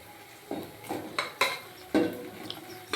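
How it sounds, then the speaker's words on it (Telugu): Broad beans go into a pan of tempering with curry leaves and are stirred, giving a handful of sharp metallic clanks and scrapes of utensil on pan, spaced irregularly over a low background. "మగ్గినాక దీంట్లో చిక్కుడుకాయలు వేసేస్తాము."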